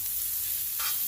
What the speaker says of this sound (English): So you want to cook them down until they start getting translucent.